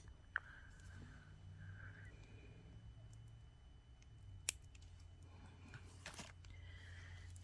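Scissors or cutters snip beading wire for a pearl necklace, making one or two sharp, quiet clicks against a faint background hum.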